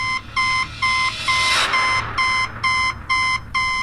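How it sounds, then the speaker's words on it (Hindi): Loud electronic beeping from a machine with a red light after a failed fingerprint check, a rapid regular series of short high pulses, close and with no talk. "उसके अंदर एक लाल बत्ती जल रही थी और वो जोर जोर से बीप कर रही थी।"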